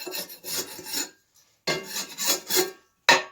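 Ulu knife scraping the bottom and corners of a cast iron pan after frying halibut: several bursts of harsh, raspy scraping in quick strokes, close and fairly loud, separated by short pauses.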